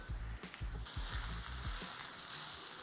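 Onions sautéing in a pan with a pinch of salt and black pepper, a close, even hiss of frying with a few soft stirring bumps early on.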